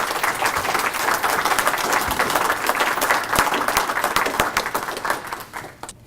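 An audience applauds steadily to welcome a speaker at a talk on the Homestead Act and the Plains Tribes, dense clapping close and sustained for about six seconds before thinning out at the end.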